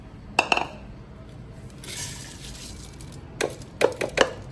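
Chopped green chillies for a quick pickle being scraped off a board into a bowl, heard as intermittent close clinks and taps of a utensil with brief scraping and shuffling between them.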